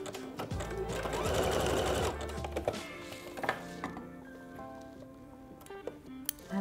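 A domestic sewing machine stitches a leggings waistband in a steady, fast mechanical chatter that runs close by for a couple of seconds, then stops and gives way to quieter clicks, handling noises and faint room sound.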